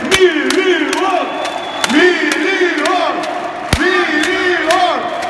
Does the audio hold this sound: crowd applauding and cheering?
yes